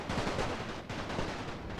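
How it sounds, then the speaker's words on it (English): Muffled, continuous rumbling bombardment on a World War I front in The Great War, Serbian campaign: a dense, steady roll of thuds and crackles with no pauses and no speech. "I've been bombarding the line a little bit here and there"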